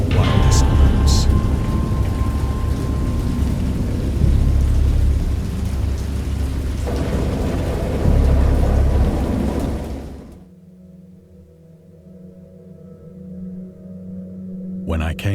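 Heavy rain and rumbling thunder roar loudly and steadily for about ten seconds in a wild storm, then cut off abruptly, leaving a quiet low hum.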